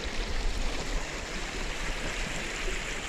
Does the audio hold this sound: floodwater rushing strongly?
yes